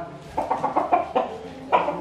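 A fighting rooster clucks close up in a quick series of short, raspy bursts, about seven or eight clucks in uneven rhythm with a brief pause before the last.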